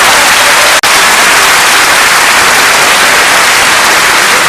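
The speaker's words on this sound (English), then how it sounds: "Please give Mr. Ola the clap, please." Audience applause for a speaker at a parenting talk, a loud, harsh, continuous wash of clapping with a brief dropout near the start.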